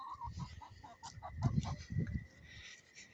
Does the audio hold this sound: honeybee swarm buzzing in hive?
no